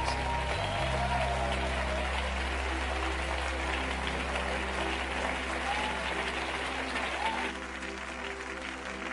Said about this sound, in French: Let's give Jesus the biggest hand of the morning.